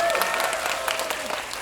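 An audience at a Parasite movie talk event in a Megabox COEX cinema hall claps steadily and fairly loudly, individual claps audible within the crowd, with faint speech under it.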